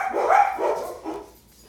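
A voice imitates a dog, giving a short throaty bark followed by a softer whining yelp, close and loud in a quiet room.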